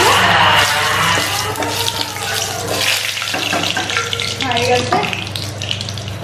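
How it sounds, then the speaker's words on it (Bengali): Dried red chillies and bay leaves frying in hot oil while being stirred, a loud dense crackling sizzle close up throughout with scraping stirs mixed in. "এবার আমি দিয়ে দিচ্ছি দুটো শুকনো লঙ্কা আর তেজপাতা। এগুলোকে একটু নাড়িয়ে দেবো।"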